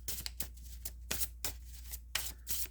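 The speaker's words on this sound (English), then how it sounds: "Let's keep shuffling here." Tarot cards are shuffled by hand in quick riffling bursts, about eight snaps in a loose rhythm, close and soft, with no talking.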